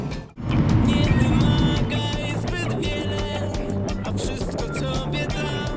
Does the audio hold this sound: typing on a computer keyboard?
no